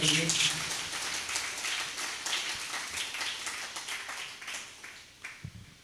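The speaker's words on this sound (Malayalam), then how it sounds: "ഒന്ന് കൈയടിച്ചു കർത്താവിനെ മഹത്വപ്പെടുത്തുന്നു." A congregation at a Bible convention claps hands in praise, a dense burst of many clapping hands that starts loud and gradually thins and fades, with voices faintly present.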